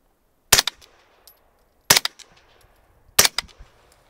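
Three suppressed rifle shots through a SilencerCo Omega 9K can, each a sharp loud crack with a brief tail and echo, spaced about 1.3 seconds apart, with quiet between them.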